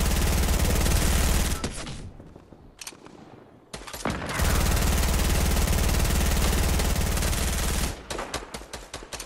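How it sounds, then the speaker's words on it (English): Gunfire in Fortnite, with dense rapid automatic bursts and sniper shots, loud and close, broken by a short lull before the firing resumes and then ends in a string of separate shots. "Oh, they're sniping us now."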